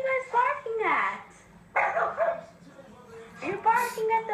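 Several pug dogs bark and yip in short bursts close by, with a whimpering tone between barks, while a person talks over them.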